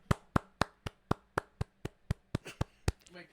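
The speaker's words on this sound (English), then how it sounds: "Give him a round of applause." Around a dozen sharp hand claps in a steady, slightly quickening rhythm from a small group or a few people on a podcast, close and fairly loud, ending in a brief murmur.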